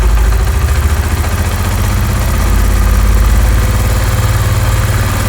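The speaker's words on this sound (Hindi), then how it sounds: "तो ये देखिए बाइक मैंने स्टार्ट कर दी है।" A Honda CD 70 motorcycle engine idles close by, a loud, steady low thumping putter with even rapid pulses throughout, alone without talk.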